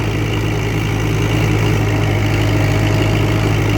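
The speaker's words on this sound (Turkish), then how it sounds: "15-20 traktör sürdük" Tractors idle in a village field during communal wheat sowing, a loud, steady, low diesel rumble with constant vibration and no break.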